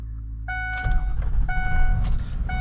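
A 2004 Ford Excursion Limited 6.0L Powerstroke diesel starting while already warm: chiming warning tones, then the starter cranks briefly and the engine catches into a close, loud, rumbling idle as the chimes repeat.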